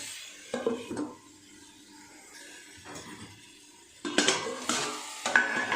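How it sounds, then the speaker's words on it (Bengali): Taro stolons with prawns and spices being stirred in a pan, with close scraping and clattering of a spatula against metal in short bursts over a faint sizzle. "এইবার এটা এইভাবে আস্তে আস্তে নেড়ে নেড়ে ভালো করে মশলার সঙ্গে কষিয়ে নেব"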